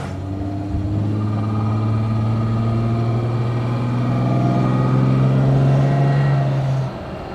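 A Fiat 130 on the move gives a steady, loud mid-pitched engine drone heard from inside the car, rising gently in pitch as it pulls, then easing off near the end, with no talk.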